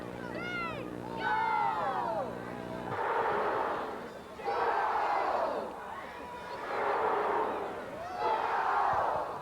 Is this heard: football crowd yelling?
yes